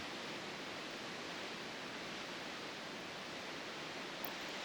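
Flowing water near Valdez, Alaska, heard as a steady, dense, broadband rush that stays even and unbroken throughout, like a nearby stream or waterfall, with no voices.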